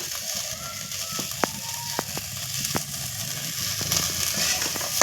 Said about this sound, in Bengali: আলুটা দিয়ে নাড়াচাড়া করে নিয়ে দিয়ে দেব স্বাদ মতো লবণ